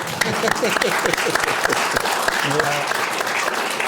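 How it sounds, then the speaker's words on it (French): Studio audience applause from a French political talk show, a dense steady wash of clapping that fills the whole stretch at an even, fairly loud level. "Ça s'applaudit. Bravo."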